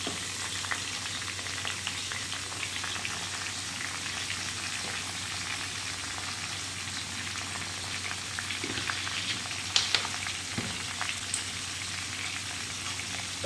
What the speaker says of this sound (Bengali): তো ভালোভাবে আমগুলোকে ভাজা হবে এবার